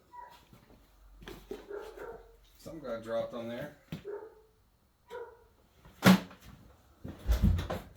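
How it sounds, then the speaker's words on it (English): A dog gives a few sharp barks and whimpers near the end, after someone speaks briefly; a clatter sounds just before. "What are you barking at?"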